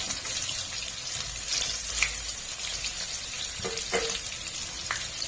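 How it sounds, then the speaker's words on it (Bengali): Onions frying in a pan for chicken curry give a steady, moderate sizzle with occasional stirring scrapes and clinks, no talking. "আমি পেঁয়াজ দিয়ে দিয়েছি, পেঁয়াজটা করে নেবো ভালো করে ফ্রাই।"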